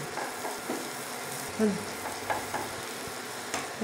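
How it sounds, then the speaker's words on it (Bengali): Chopped garlic frying in melted butter, a soft continuous sizzle with occasional light spatula scrapes and taps, close but fairly quiet, no speech. "বাটারটা গলে গেছে এবার দিয়ে দেবো রসুন কুচিটা দিয়ে দিলাম একটু বাড়িয়ে দেবো রসুন কুচিটা একটু হালকা ভেজে নেবো"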